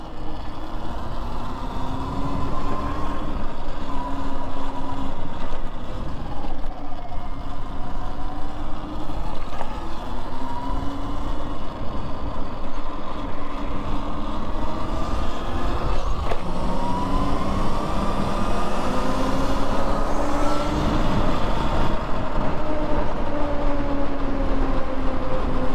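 Sur-Ron electric dirt bikes riding trails at night, a loud continuous whine of motors with rising and falling pitch sweeps over rough rolling rumble, steady throughout and without talk.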